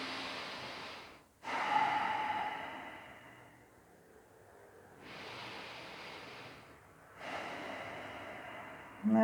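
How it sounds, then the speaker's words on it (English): Slow, deep breaths during a yoga class, long airy inhales and exhales rising and fading in two full cycles, close and breathy with no talk. "let's take our 2 breaths here"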